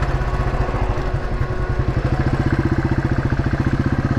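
Rebuilt Royal Enfield Classic 350 single-cylinder engine running while riding, a loud close rhythmic thumping exhaust beat that quickens slightly and holds steady.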